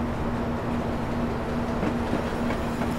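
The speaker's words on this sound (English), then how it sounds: "There's a freight train coming through" A freight train rumbles past steadily in the Train Simulator game on the South Wales Coastal route, a continuous loud rolling drone with a sustained low hum and faint clattering, no voices.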